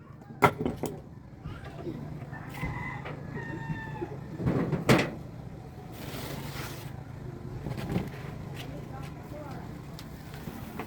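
Chickens cluck and a rooster crows at a rural yard before being fed corn, the calls rising in short bursts over a steady low hum while people talk nearby.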